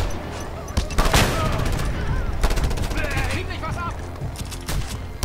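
Shotgun blasts ring out in the open-world shooter Just Cause 2, several loud booming shots scattered through the clip amid game sound effects, with someone talking over them.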